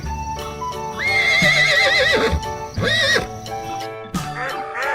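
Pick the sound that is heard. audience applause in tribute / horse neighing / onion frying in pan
horse neighing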